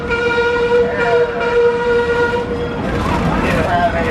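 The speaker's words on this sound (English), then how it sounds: "Oh, there's the train." A train at Six Flags Fiesta Texas amusement park in San Antonio rumbles past, sounding a sustained horn-like tone up close and loud over a steady mechanical roar, with some talk mixed in.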